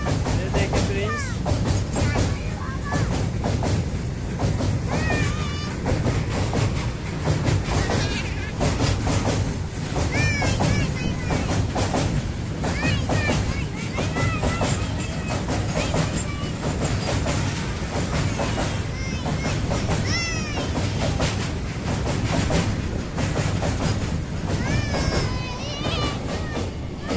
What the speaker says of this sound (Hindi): इसने 2 ट्रेन देखी।